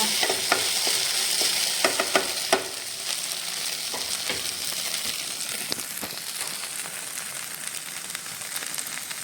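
Okra stir-fried in a pan gives a soft, continuous sizzle, with repeated scraping and stirring clicks from a spatula, close and fairly quiet.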